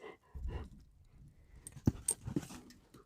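Farm dogs move around close by, with panting, jangling tags and a few sharp scuffs, brief bursts between quieter moments, no speech.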